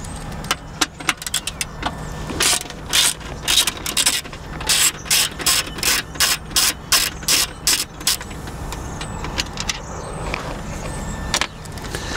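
Screws come out of the luggage rack mount on a Vespa GTS 300 hpe scooter, with close, rhythmic bursts of ratchet clicking, many quick strokes in a row and short pauses between them.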